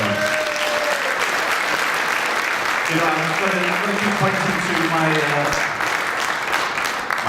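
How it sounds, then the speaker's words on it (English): A cinema audience claps loudly and continuously as a person talks over the applause. "Let's have a round of applause"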